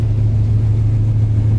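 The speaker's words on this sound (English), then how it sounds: "Let you hear the exhaust" A deep, steady exhaust rumble from a 1967 Plymouth Barracuda's 360 V8 drones on without pause, loud and close.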